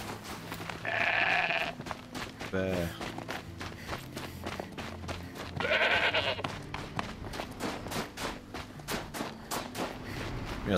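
Sheep or goat bleats from Horizon Zero Dawn, two drawn-out calls a few seconds apart over steady in-game footsteps and background game sound.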